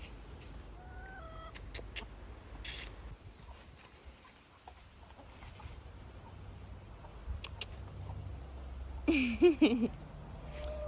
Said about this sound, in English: Oh, here comes the chickens.